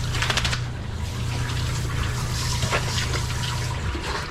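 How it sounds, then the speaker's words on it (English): Water running and splashing steadily as soap is rinsed off a dog during a bath, a continuous close trickling and spattering for a few seconds. "I also have to rinse all of that soap out"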